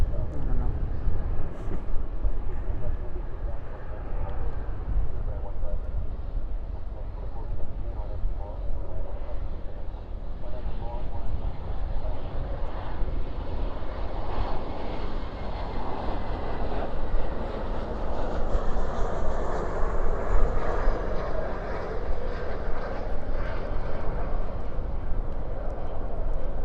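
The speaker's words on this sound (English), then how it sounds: "Spoilers up, reversers out." A jet airliner lands at night at Dallas Fort Worth airport with spoilers up and thrust reversers out. A long, rumbling roar builds and swells toward the end, with talking heard over it.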